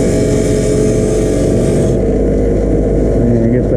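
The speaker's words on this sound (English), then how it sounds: "so we'll just wire wheel a little bit here" A wire wheel buffs the fuel pump locking ring from a 2002 Chevrolet Blazer, a loud, steady mechanical whir with a harsh grinding edge that continues through the whole clip and eases slightly partway through.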